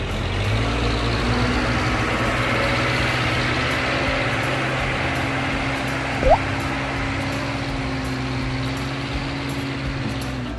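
A truck delivering seeds to a tractor on a farm runs with a steady, low engine drone and constant hum, continuous and unchanging throughout at moderate loudness.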